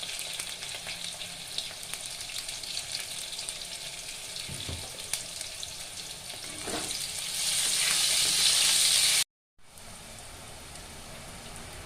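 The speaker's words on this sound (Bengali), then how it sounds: "বেগুনটি ভাজা হয়ে গেছে" Eggplant fries in hot oil with a steady, faint sizzle that swells louder near the end, then cuts out briefly before resuming.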